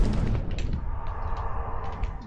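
A grenade exploding in the Valorant video game, one deep booming blast at the start that decays into a rumbling tail, with fainter game effects after it.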